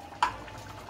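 A spoon gives a single sharp scrape against a pot while borscht dressing is stirred, followed by a faint simmering hush and another light touch near the end.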